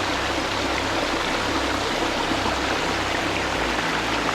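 Steady, dense rush of flowing water from a waterfall in a forest at Bathwadigala, continuous and unbroken throughout.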